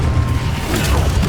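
Incendio fire spell cast in Hogwarts Legacy: a loud, close whooshing burst of flame with a deep rumbling boom, short and dense, with no talk.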